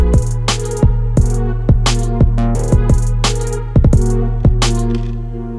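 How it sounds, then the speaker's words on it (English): A deep, sustained 808 bass booms under a repeating beat of sharp drum hits and crisp hi-hats, loud and steady. "The next point that we'll move on to is the 808."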